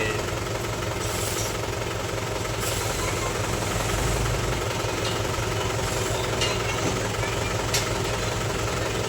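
A tractor engine idles nearby beside a pond where it is being unloaded, with a continuous low, chugging rumble that holds steady throughout.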